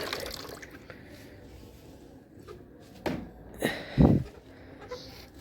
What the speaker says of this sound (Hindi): तो अभी पानी डालते हैं।